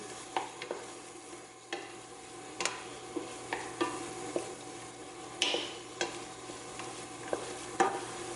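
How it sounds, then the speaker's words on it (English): A spoon stirs salt and pepper into noodle alfredo in a pan, with soft scraping strokes and light ticks recurring at an even pace over a faint sizzle. "we're going to stir that in, make sure that gets all good and mixed through"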